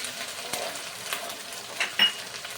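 Onion paste, ginger paste and dried chillies frying in a pan, a quiet crackling sizzle broken by a few soft stirring scrapes over a couple of seconds.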